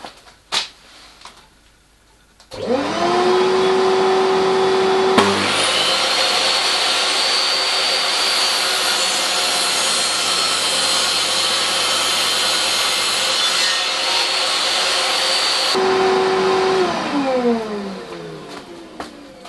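A table saw with vacuum dust collection spins up, runs as a loud, steady whine for about thirteen seconds, then winds down, with quieter handling noise before and after.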